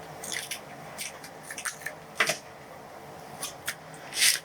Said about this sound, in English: Still gonna need to cut that though.